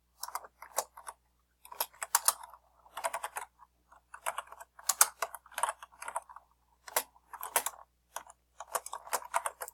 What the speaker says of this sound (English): yeah, you have to start typing, of course